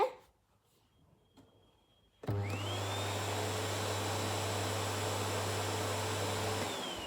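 After a quiet moment, a Bosch Serie 2 vacuum cleaner switches on at minimum power and runs steadily with a low hum and airy whine, close and continuous.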